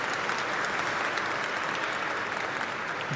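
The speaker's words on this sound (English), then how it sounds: "maybe just a quick round of applause for building such an awesome database" Conference audience at a tech main stage event gives a brief, continuous round of dense applause, steady and even throughout with no voices standing out.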